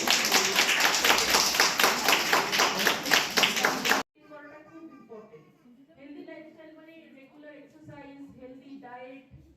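Loud applause at a charity welfare society's anniversary celebration, a dense burst of many hands clapping for about four seconds, then a voice speaking alone.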